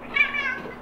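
A house cat gives a single short, drawn-out meow indoors, moderately close and fairly quiet, with no talking over it.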